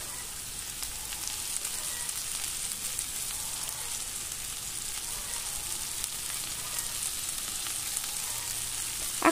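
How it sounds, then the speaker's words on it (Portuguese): Kale sautéing with bacon in a pan gives a soft, steady sizzle and crackle at low level, with a few stirring scrapes and a brief louder clatter at the very end. "Vamos aqui agora refogar a nossa couve."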